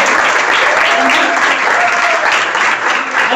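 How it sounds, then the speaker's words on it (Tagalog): Loud, dense applause from a church congregation clapping for the Lord after a prayer, close and sustained with many hands, a few faint voices mixed in. "Sige po, palakpakan natin si Lord."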